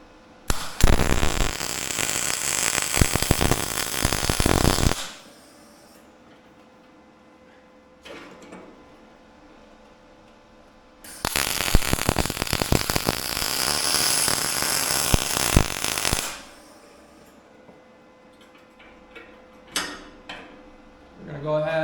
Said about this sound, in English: So let's go ahead and get this welded on.